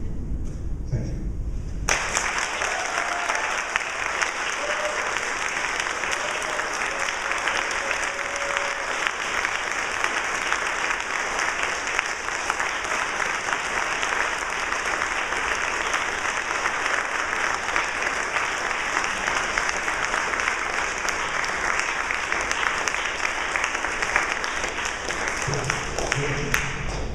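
Sustained, dense audience applause fills the hall at the close of a university lecture, steady and loud for the whole stretch with no break.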